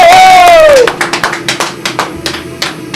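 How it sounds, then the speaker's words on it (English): Applause from an audience at a blacksmithing demonstration, with a burst of scattered, fairly close claps that begins after a short whistle-like tone and continues unevenly to the end. "Let's have a round of applause, ladies and gentlemen."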